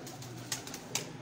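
Pigeons giving a couple of soft coos over a faint background murmur, fairly distant and quiet.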